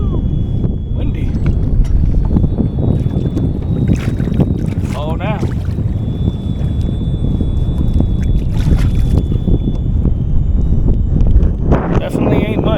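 Longtail mud motor drives a small plastic Pelican Bass Raider 10E boat through shallow water, a steady close engine drone under heavy wind buffeting, with people speaking briefly over it.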